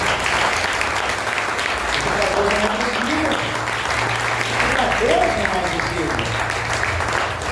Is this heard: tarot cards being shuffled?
no